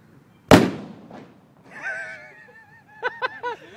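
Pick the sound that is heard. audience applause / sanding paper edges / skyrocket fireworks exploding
skyrocket fireworks exploding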